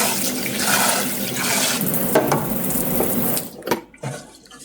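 Tap water runs and splashes steadily while rice is washed in a kitchen, then gets choppier with brief pauses near the end.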